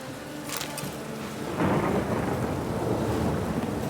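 Steady rain hissing with a deep rumble of thunder rolling in and swelling partway through, no voices, in the video game The Witcher 3: Wild Hunt.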